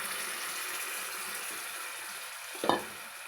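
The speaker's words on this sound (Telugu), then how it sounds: "ఇప్పుడు మనము చింతపండు పులుసు పోసుకున్నాము" Tamarind juice poured into a pan of nettallu fish curry, giving a steady low hiss of frying throughout, then a brief louder splash and sizzle near the end.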